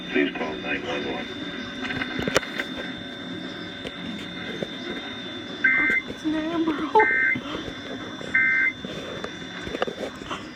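Emergency Alert System tones from an Amber Alert radio broadcast by the State Police: three short, shrill, buzzy data bursts evenly spaced, coming over a radio announcer's speech.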